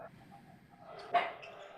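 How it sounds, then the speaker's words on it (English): A dog lets out a single short bark at a basketball watch party, faint and a little distant, over quiet room noise. "I don't need you to be barking"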